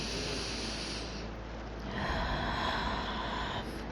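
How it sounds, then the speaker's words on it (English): A slow, deep breath taken close by, a soft airy inhale followed by a longer, fuller exhale over a faint steady background wash. "Let's take a breath."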